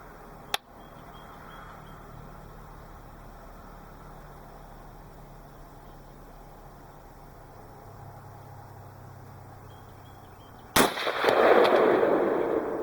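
A rifle with a 16-inch barrel fires Winchester white box 5.56x45mm / .223 Remington rounds: one sharp, loud crack near the start, a long quiet stretch, then a second shot with a rumbling echo trailing off.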